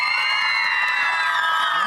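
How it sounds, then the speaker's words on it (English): A school audience at a live science show cheers and whoops for two volunteers coming up, a dense, loud, steady roar of young voices with high shouts, sustained throughout. "you guys give a rock star cheer for these 2 as they come on up."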